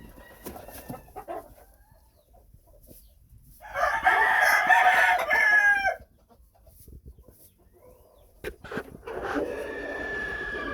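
A black-breasted red Phoenix rooster gives one long, loud crow at close range, followed after a pause by further strained calls, with a hen nearby and quiet barnyard rustling between.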